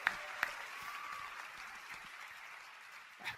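Sustained crowd applause at moderate level for a game announcement, a steady wash of clapping with a few sharper claps standing out at the start and end.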